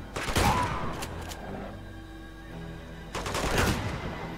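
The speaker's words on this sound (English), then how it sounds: "Two shots." Gunshots in the video game Uncharted 2: Among Thieves, two loud bursts of rapid fire separated by a quieter gap of about a second and a half.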